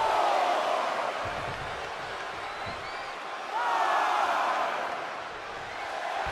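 An arena crowd at a video game wrestling match roars and cheers in a continuous wash of noise, with a few whoops rising above it and surges in volume.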